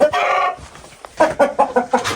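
A rooster crows once, long and close, then follows with a quick series of short, rhythmic clucks and calls.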